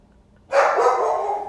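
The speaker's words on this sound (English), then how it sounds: "My dog has been barking at the Halloween decorations for an hour." A dog barks at Halloween decorations, one sustained loud bark-like yelp starting abruptly and holding close to the listener, with no talk over it.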